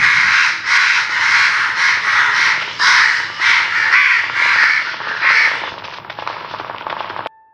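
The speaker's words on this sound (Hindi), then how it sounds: "जैसे ही मैं स्केयर क्रो के पास जाता हूँ आपको यहाँ पे कौओं की आवाज़ सुनाई देगी" Crows caw repeatedly near a scarecrow in a zombie training mode of a video game, a run of loud harsh calls in quick succession before fading to a quieter tail.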